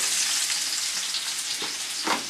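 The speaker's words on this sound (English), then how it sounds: "So just let your onion just fry, just for a minute there on a medium heat" Chopped onions fry in hot oil over medium heat, a steady close hiss and sizzle with a few soft stirring bumps near the end.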